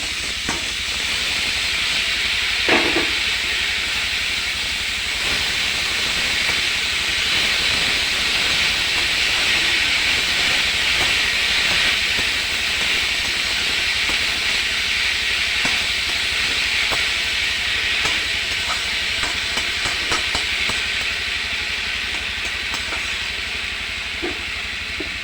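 Water hyacinth flowers cook in a hot pan, giving a loud, steady hiss and sizzle that runs unbroken from start to finish, with faint clicks now and then.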